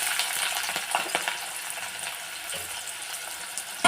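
Chopped onion, green chili and curry leaves fry in mustard seed oil in a pan, giving a steady close sizzle with faint stirring scrapes and no voices.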